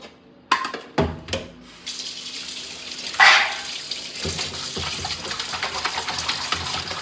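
Raw tripe and intestines for a Konkan wajri dish are rinsed under a running kitchen tap, water splashing and gushing steadily into the sink with a few sharp knocks near the start.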